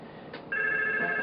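A phone starts ringing after a call is placed from a 3CX phone system, a steady electronic ring tone that comes in abruptly and holds loud and clear, with no talking.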